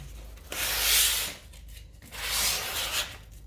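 A gesso-coated canvas edge is lightly sanded and dusted by hand, two soft, close rasping strokes separated by a short pause, with no voices.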